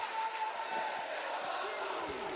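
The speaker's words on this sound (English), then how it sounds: "The crowd chanting, "This is awesome."" Arena crowd chanting in the WWE 2K19 wrestling game during a Slammiversary match, a broad rhythmic roar of many voices at moderate distance, sustained throughout.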